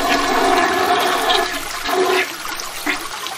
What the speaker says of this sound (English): flush it all down.